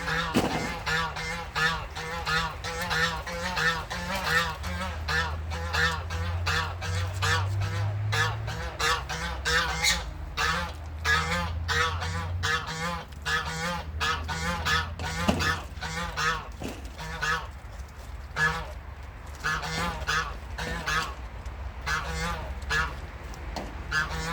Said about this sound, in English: Excuse the sound of the goose in the background.